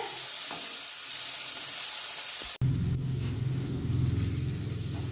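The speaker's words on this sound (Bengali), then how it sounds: "টমেটোকে ভাজা ভাজা করে নিতে হবে" Chopped tomato frying with spices in a pan for a prawn masala curry, a steady close sizzle that drops out for an instant mid-clip and then returns fuller with stirring, no talking.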